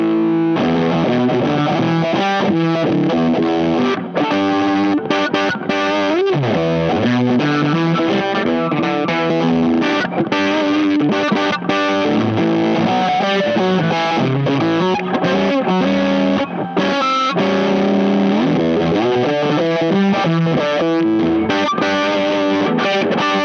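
Electric guitar through a Tone Cloud Effects Jaffa fuzz pedal, playing dense, heavily distorted, blown-out chords and riffs continuously at a loud, steady level with no talking.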